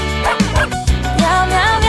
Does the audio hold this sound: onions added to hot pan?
no